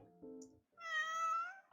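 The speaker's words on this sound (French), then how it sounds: "Déjà, on a un chat. Salut. Neko. Miaou." A cat gives one clear, drawn-out meow at close range, preceded by a brief low murmur.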